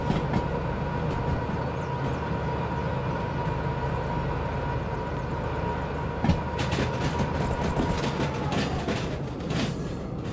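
A locomotive in the train game Derail Valley runs along the track with a steady rumbling drone and a sustained tone, then a cluster of rapid rail clicks and clatter in the last few seconds.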